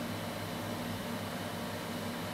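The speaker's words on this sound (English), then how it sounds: "This spindle motor that you see here, like I said, it's spinning extremely fast, but it's an air bearing" The air-bearing spindle motor of a pneumatic glide burnish machine in a data recovery lab spins extremely fast, giving a steady, even whooshing hiss with a faint low hum, unbroken and without speech.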